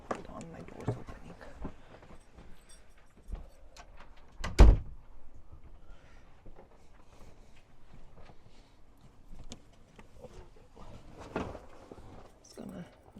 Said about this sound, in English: Oh, hold on, my door's opening.